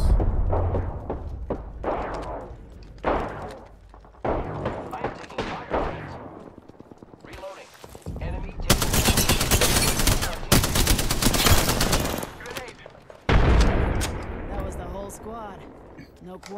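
Apex Legends gunfire during a ranked match: rapid automatic bursts and scattered shots, loud and close, with dense sustained volleys late in the stretch, while players talk over the fighting.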